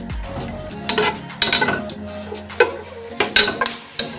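Utensil stirring onions browning in oil in a pot, repeated metallic scrapes and clinks against the pot in an irregular rhythm over a soft sizzle.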